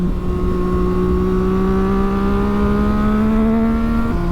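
Triumph Street Triple R motorcycle engine while riding in sixth gear at about 60 mph, a loud steady droning hum with a slowly rising pitch and wind rush, no talking.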